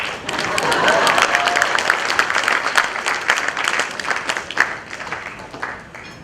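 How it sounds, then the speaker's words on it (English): Audience clapping at a motivational talk, a loud, dense burst of applause from a crowd that stays full for several seconds and then thins out slightly toward the end. "You are jealous of me, you don't want to clap."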